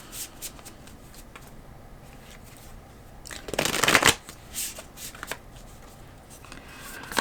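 A tarot deck is handled and shuffled with soft card taps and riffles, building to one loud, close burst of shuffling midway, then lighter card flicks.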